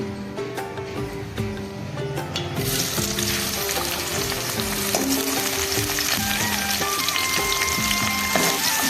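Onions dropped into hot ghee burst into a loud, dense sizzle that starts a few seconds in and continues steadily, with light clinks of utensils over the frying.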